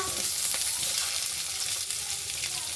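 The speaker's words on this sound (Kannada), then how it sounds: "ಹಾಕಿ ಸ್ವಲ್ಪ ಎಣ್ಣೆಯಲ್ಲಿ ಫ್ರೈ ಮಾಡಿಕೊಂಡು" Onion, garlic, ginger and tomato fry in hot oil in a pan, giving a loud, steady sizzle with occasional stirring scrapes and no talking.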